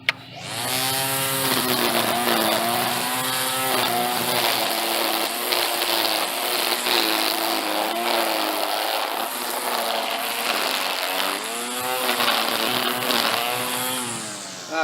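A Black + Decker LST201 20V cordless 10-inch string trimmer cuts grass with a steady, loud, high whine that wavers slightly in pitch as it moves through the growth, running continuously and alone.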